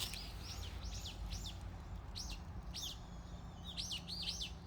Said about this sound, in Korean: 새소리가 좋습니다